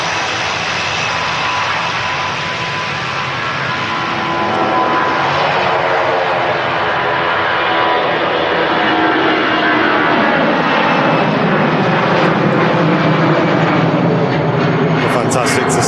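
A SkyTeam special livery airliner departing Manchester Airport for Paris Charles de Gaulle roars loudly and continuously, its jet engine noise building steadily and staying strong throughout.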